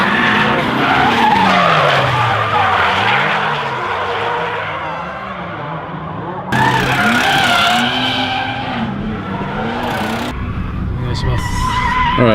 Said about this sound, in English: here's what regular speed drifting looks like on this track